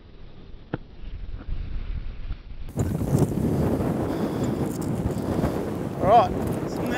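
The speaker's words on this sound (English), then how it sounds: "Oh man, this wind is ridiculous, eh?" Strong gusting wind buffets the microphone on an off-road sand recovery outing, a loud continuous low rumbling roar that kicks in after a quieter start and carries on steadily, with a voice briefly audible.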